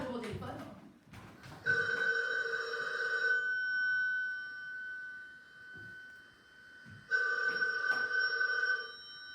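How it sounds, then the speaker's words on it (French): A telephone rings during a live private stage performance, two sustained electronic ring bursts separated by a pause, fairly clear over a quiet room with faint stage noise at the start. "Le chevalier sans peur et sans reproche répond au téléphone."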